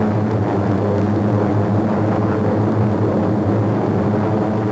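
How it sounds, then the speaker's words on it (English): A four-engine propeller aircraft roaring through a full-power takeoff run, a loud, steady, dense drone of engines and props with no letup. "The big ship gathers speed rapidly, racing downway for a full power takeoff."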